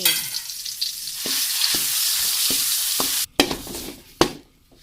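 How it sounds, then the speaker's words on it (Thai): Freshly pounded chili paste sizzles and spits in hot oil at close range, with a utensil scraping and tapping the pan as it is stirred. "แล้วเฮาก็ใส่น้ำพริกนะเจ้าที่เฮาตำไว้ตะกี้"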